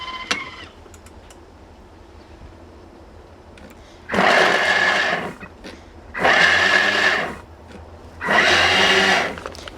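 Food processor pulsed on turbo to cut chilled, diced butter into crumble mix: three loud whirring bursts of about two seconds each, separated by short pauses, close and alone.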